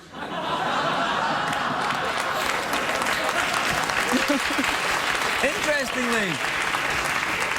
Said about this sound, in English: Interestingly, the audience applauded the idea.